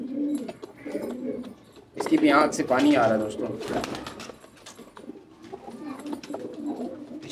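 Pet desi pigeons coo softly in the background, a low murmuring call recurring through the clip beneath someone talking nearby.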